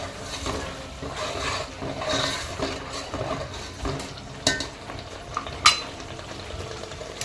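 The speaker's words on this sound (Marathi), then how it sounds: "तेलामध्ये मी एवढं तेल आहे आणि ह्या तेलामध्ये आता मी हे चांगलं परतणार आहे" Roasted fresh coconut sautéed in oil for a mutton curry, a continuous close sizzle under repeated scraping stirs, with a few sharper metallic clanks of the spoon against the pan.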